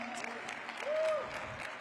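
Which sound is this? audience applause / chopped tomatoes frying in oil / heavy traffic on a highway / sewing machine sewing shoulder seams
audience applause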